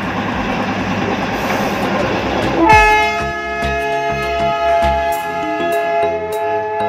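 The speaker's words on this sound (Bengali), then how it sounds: "তারপর আবার টয় ট্রেন।" The Darjeeling toy train rumbles past along the track and then sounds a loud, sustained multi-tone horn that carries through the rest of the passage over continued rolling rail noise.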